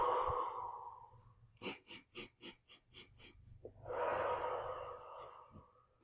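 A person breathes in with a sharp, stuttering gasp, several quick catches in a row like sobbing, framed by longer breaths in and out, close and quiet.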